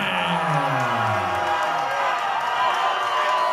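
A live wrestling crowd at an OVW show roaring at Dustin Jackson's entrance, a steady wall of loud cheering and jeering voices that holds throughout, with a sliding tone fading under it at the start.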